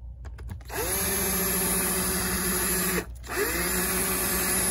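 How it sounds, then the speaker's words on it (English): Battery drill drilling out a stripped laptop screw, a loud close whine held steadily, briefly stopping and restarting once midway. "the screw is pretty thick, so it may take some time to drill."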